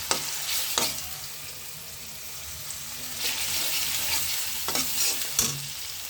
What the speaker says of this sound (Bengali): পেঁয়াজটা ভাজি করলাম